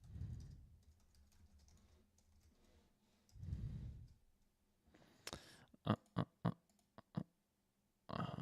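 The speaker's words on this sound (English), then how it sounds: "I'm just typing up a little post." Bursts of keyboard typing, a quick run of sharp clicks and key taps close by, separated by quieter gaps with faint low rumbles.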